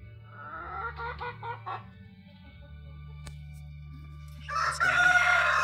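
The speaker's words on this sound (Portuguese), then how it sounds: "As galinhas." Chickens cluck in short bursts, then a rooster crows loudly and close by, over a low steady hum.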